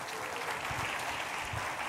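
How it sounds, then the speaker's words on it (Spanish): Congregation at a church retreat applauding: a steady, dense wash of clapping that fills the whole moment at an even level, with no talk over it. "Podemos darle un aplauso al Señor."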